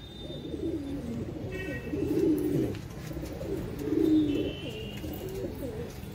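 Long-distance racing pigeons with double leg rings coo softly nearby, two low throaty rolling coos rising out of a quiet background, with faint chirps in between.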